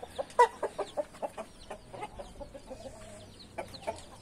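Chickens on a farm cluck in quick, irregular bursts, with a rooster among them, the calls moderately close and fairly quiet, with no talking over them.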